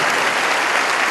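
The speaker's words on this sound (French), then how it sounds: "Un grand applaudissement pour eux." Audience applause during a Bible study gathering, a dense, steady burst of clapping from a large crowd filling the room throughout, loud and close with no talking.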